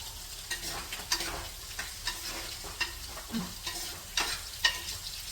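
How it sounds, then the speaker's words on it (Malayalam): Food stirred in a frying pan, a continuous sizzle with regular spatula scrapes and taps repeating about once a second, close and moderately loud. "അന്നേരം ഇളക്കി കൊടുക്കട്ടെ"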